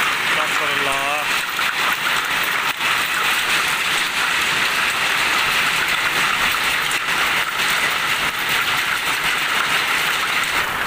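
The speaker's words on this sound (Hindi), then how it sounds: "बहुत तेज़ बारिश है" Very heavy rain falling in Najaf, Iraq, a dense, steady hiss of downpour that fills the whole stretch without letup, with faint traffic-like rumble beneath.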